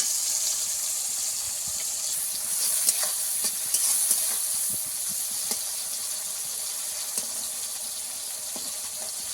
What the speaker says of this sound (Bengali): কিছু সময় আমি টমেটোটাকে ভাজবো।